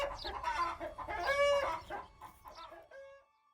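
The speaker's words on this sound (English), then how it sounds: "I love these chickens!" Chickens cluck and squawk close by in a busy, overlapping chorus that fades out toward the end.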